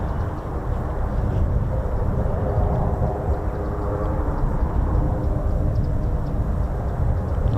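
A heavy aircraft runs its engines while preparing for departure at RAF Marham: a steady, loud, broadband roar with deep rumble, unbroken throughout and with no talk.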